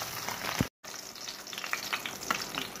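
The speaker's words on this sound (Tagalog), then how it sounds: "Lagyan na natin guys ang ating burger patty pag mainit." A burger patty frying in oil in a pan on low heat gives a steady, moderate crackling sizzle with scattered pops, broken by a brief dropout.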